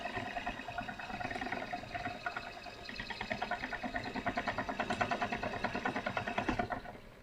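An electric spinning wheel running at 500 RPM spins angora with a faint, steady, fairly high whirring hum and a soft rhythmic pulse, quiet and alone.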